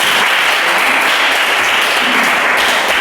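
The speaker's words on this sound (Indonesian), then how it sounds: "Oke, tepuk tangan untuk." Loud, steady applause from a class of students at the close of a teacher-training lesson, dense clapping filling the whole stretch without pause.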